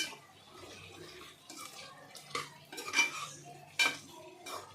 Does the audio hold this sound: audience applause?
no